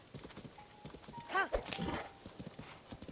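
A horse gallops in Zelda: Tears of the Kingdom, rapid hoofbeats close and steady, with a brief whinny-like cry in the middle.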